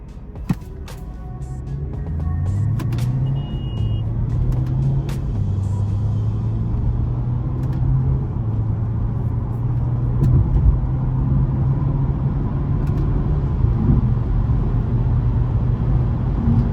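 A 2021 BMW G20 320i pulls away at 80% throttle with short shifts, its steady low engine drone rising in pitch through the gears under continuous road rumble, heard from inside the car.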